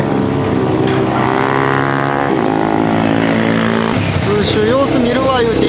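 A Honda HRC Grom motorcycle laps a track at Kinki Sports Land, its small engine droning and rising and falling in pitch as it passes, loud and close, while people talk over it.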